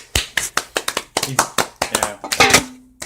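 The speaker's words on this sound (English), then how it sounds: "I don't know why we're clapping" A small group of people clapping in a series of separate sharp claps and short bursts, close and loud, at a podcast-style gathering, with brief talk mixed in.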